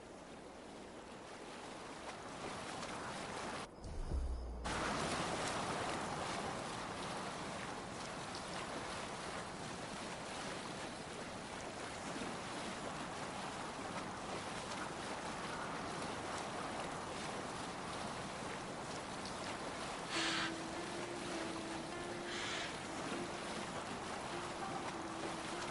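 Boat sailing across open sea in Assassin's Creed Valhalla, a steady broad rush of waves and wind washing over the hull throughout, loud and continuous with no talking.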